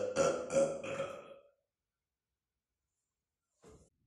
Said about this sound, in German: Hier werde ich jetzt eine Minute lang rülpsen.